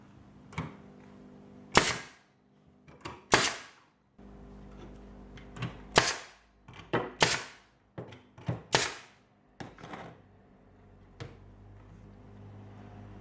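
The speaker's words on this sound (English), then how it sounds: "Got this little air compressor nail gun, which I'll use." A small air compressor nail gun drives nails into pine and old fence timber palings, firing about nine sharp, close cracks in uneven bursts with quiet gaps and faint handling between shots.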